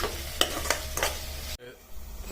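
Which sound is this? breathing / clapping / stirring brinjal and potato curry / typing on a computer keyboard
stirring brinjal and potato curry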